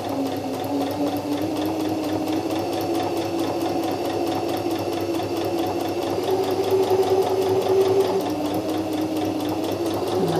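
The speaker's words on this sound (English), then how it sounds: "I'm just using a really simple straight stitch, just a straight line stitch, and I've just lined up the fabric with the left side of my foot" A sewing machine runs a continuous straight stitch through fabric for a homemade grow bag, its steady motor whir holding an even, loud rhythm throughout with no talking.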